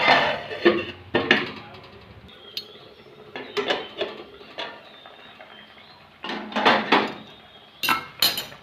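A metal pot lid clatters and clanks in several separate bursts while fish cooks with potatoes and lentil dumplings, with quieter gaps between the sharp knocks and scrapes.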